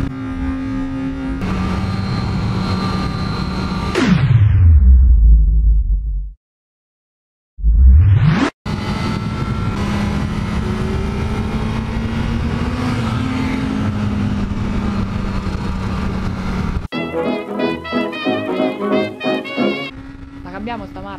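Motorcycles and cars on the road whoosh past a rider one after another, with loud rushing passes, engine drone and a brief dropout midway, while a voice talks over the traffic.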